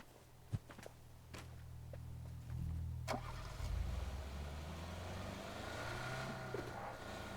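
A vehicle in PUBG on the Rondo map: a few sharp clicks and footsteps, then an engine fires up and settles into a steady low rumble that continues to the end, with no speech.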